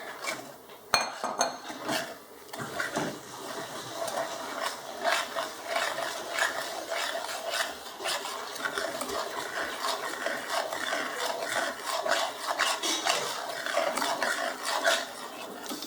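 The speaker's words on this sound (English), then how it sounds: "And then you just keep stirring it on low heat" Melted butter, salt and sugar stirred in a pan for butter pecan toffee, with a utensil scraping and clinking against the metal in a steady repetitive rhythm, close and fairly loud throughout.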